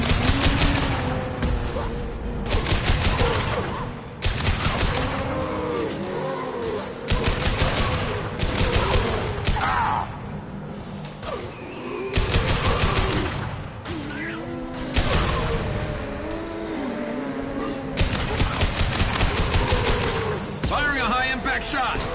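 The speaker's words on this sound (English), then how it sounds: "Firing a high-impact shot!" Bursts of rapid sci-fi gunfire in Mass Effect Legendary Edition come in repeated loud volleys with short gaps between them, mixed with impacts and crashes, while character voices call out over the fighting.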